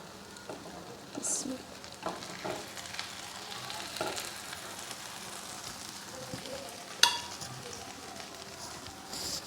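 Spiced masala bread toast frying in a pan gives a steady soft sizzle with scattered clinks and scrapes, one sharp clatter near the end, and faint movement around the stove.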